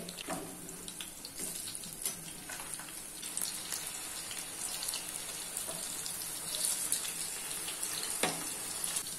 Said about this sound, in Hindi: अभी इसको लो फ्लेम पे 5 से 6 मिनट तक फ्राई कर लेना है।